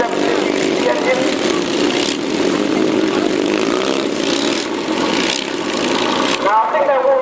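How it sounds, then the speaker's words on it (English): Several classic 750cc motorcycle engines idle and rev together outdoors at a motorcycle show, a loud continuous rumbling drone with rising throttle swells, close by. "make sure he is where he should be before they accelerate on these classic 750cc engines."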